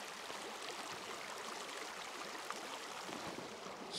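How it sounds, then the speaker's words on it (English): A gentle creek at Kenosha Pass, Colorado, flows with a steady, soft broadband rush of water, continuous and even with no voices. "Listen to this gentle stream."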